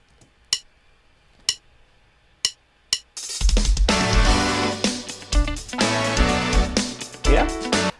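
After a few sharp isolated clicks, a full backing track kicks in with heavy bass, drums and chords in a modern gospel style, loud and continuous.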